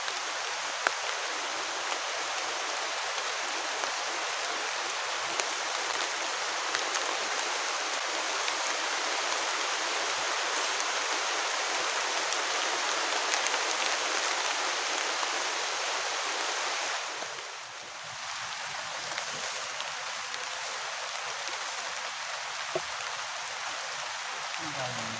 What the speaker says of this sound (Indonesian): Hujannya deras.